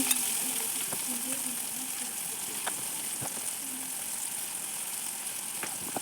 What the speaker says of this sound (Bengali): একটি প্যানে তেল দিয়ে দেব দিয়ে দিচ্ছি পেঁয়াজ কুচি কাঁচামরিচ পালি করে দিয়েছি টমেটো